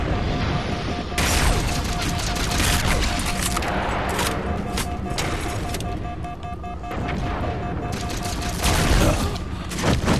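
Halo 4 combat on Xbox 360, with loud volleys of gunfire, booms and crashing impacts coming in dense, uneven bursts that swell and ease over several seconds, a tone held underneath part of the way.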